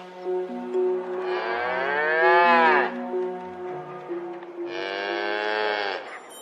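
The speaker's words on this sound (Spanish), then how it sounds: "Las vacas mugen, es lo normal." A cow moos loudly and close in two long, drawn-out calls. The pitch bends upward through the first call and holds steady in the second, with no talk over it.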